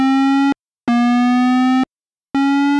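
An Arturia Oberheim SEM V software synth plays three held, bright, buzzy notes of steady pitch, each ending abruptly with short gaps between, clean and alone.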